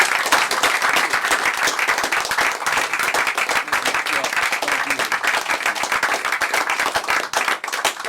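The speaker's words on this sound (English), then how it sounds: "Please show your appreciation for a great panel." Conference audience at a Conservative Party conference applauds a panel with steady, dense clapping that stays loud and continuous throughout, with no speech over it.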